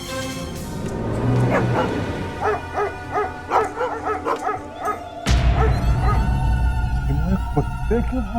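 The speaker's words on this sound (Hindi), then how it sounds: "कुत्ते क्यों भौंक रहे हैं?" Dogs bark and yip repeatedly at night over a continuous background of dramatic music and tones, the barks in quick irregular bursts, fairly close, with no talking.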